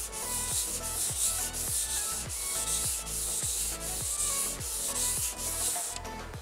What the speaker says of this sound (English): What I'm sanding with, I just got some sandpaper wrapped around just a paint stirrer stick.